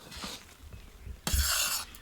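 Mawa is stirred into hot adadiya pak in a pan, giving a few close scraping and stirring strokes with a louder, rougher scrape near the end and no talking.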